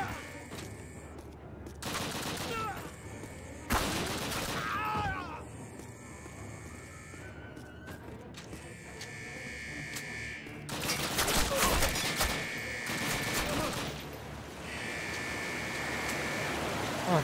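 Bursts of MP40 submachine gun fire in Call of Duty, with several rapid volleys loud and close, separated by quieter gaps with ambient game sounds.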